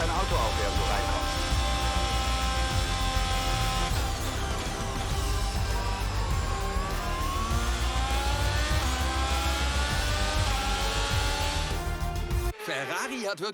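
Formula 1 race car in the F1 22 video game with a high, whining engine that rises and shifts as it drives into the pits, continuous and loud under game commentary.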